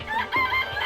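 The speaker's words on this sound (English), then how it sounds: "It's a chicken. It's really alive," A chicken clucks in the Danganronpa: Trigger Happy Havoc video game, a brief run of close, clear clucks with no talk.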